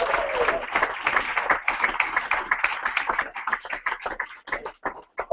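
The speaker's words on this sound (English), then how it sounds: "Give him a nice round of applause" A crowd at a Featherstone Rovers squad number announcement claps in a dense, steady burst of applause that gradually thins into scattered individual claps.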